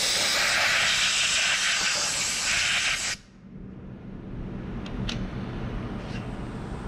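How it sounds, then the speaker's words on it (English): Compressed air hisses loudly and steadily for about three seconds as it blows chips off a block in a CNC mill, then stops and leaves a low machine hum in the background. "what I'm using is compressed air to blow the chips out of the way"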